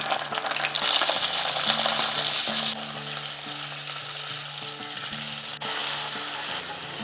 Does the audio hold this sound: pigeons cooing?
no